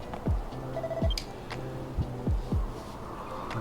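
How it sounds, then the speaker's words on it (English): The Builder's Bell in the video game Dragon Quest Builders 2 rings with bright chiming tones and several sweeping, descending swoops at a regular pace over a steady game backdrop. "Is there no end to the wondrous powers of the Builder's Bell? And we have Hero to thank for ringing it."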